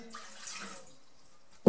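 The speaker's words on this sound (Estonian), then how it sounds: "Ja siia ma panen sisse siis selle vee" Water runs from a tap into a cooking pot in a home kitchen while porridge is being prepared, a soft steady splashing pour heard close by and alone, ending in a brief knock.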